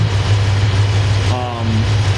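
Car engine idling steadily during a fuel pressure regulator adjustment, with the regulator's vacuum line disconnected to simulate full throttle; a low constant hum runs throughout, with a brief higher tonal whine near the end.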